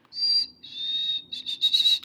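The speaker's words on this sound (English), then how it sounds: "Golden Winged Warbler." Golden-winged warbler song: a thin, high buzzy note followed by a series of shorter buzzy trills, clear and fairly close with no other sounds.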